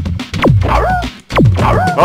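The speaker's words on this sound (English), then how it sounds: "Dog." A cartoon dog in Spyro: Year of the Dragon gives two yipping barks, each a sharp bark sliding into a whiny, whimpering tail, close and loud with a short pause between them.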